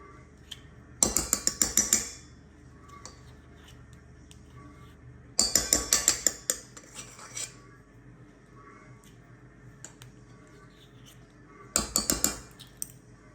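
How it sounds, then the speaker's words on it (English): Dry baking ingredients including flour are mixed in a bowl. Three separate bursts of rapid metallic clinking, each lasting about a second, are split by quiet pauses close to the listener. "I'm going to mix up our dry ingredients."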